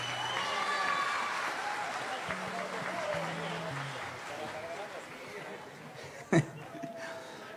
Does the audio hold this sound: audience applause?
yes